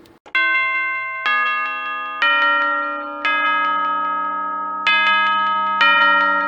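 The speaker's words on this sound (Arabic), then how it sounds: "فبيقوم الجرس ضارب." Repeated bright bell chimes ring out one after another, each tone sustaining and fading slowly, loud and clear with no talking.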